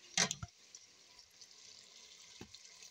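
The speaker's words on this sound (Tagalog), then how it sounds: "Now we can add water." Water poured from a tap or container into a pan of cooking pancit: a short splashing burst at the start, then a quiet pause and a faint later splash, with no talk.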